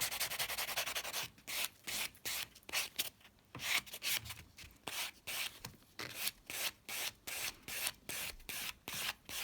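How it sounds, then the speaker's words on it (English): A buffer rubs back and forth over an acrylic nail surface to smooth out file scratches, making close, rhythmic scratchy strokes in a steady repeating pattern with brief gaps between passes. "I'm just going to give it a little bit of a buff over to smooth out the worst of those scratch marks in the surface"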